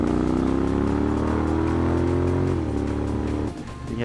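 A Honda X-ADV 750 big bike rides along Kennon Road near Baguio City, its engine droning steadily, easing off with a falling pitch, then dropping away sharply near the end, close and loud with no talk.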